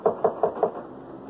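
Four quick, evenly spaced knocks on a door, crisp and close, in a radio drama scene with no voices over them.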